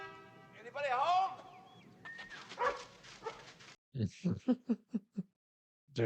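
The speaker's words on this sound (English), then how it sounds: "There's a puppy dog." A puppy yips and barks outdoors in a film scene, with a run of short, sharp barks near the end after a voice and some whimpering earlier.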